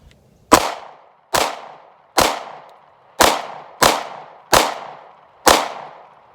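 A SCCY CPX-2 pistol fired seven times at a quick, slightly uneven pace, each shot a sharp loud crack followed by a short decaying echo, close up with no talking.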